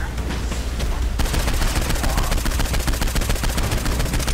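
Rapid automatic gunfire in the Saints Row 4 video game, loud dense bursts of shots that become a steady machine-gun rattle after about a second, filling the whole moment.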